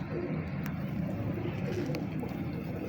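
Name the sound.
pigeon cooing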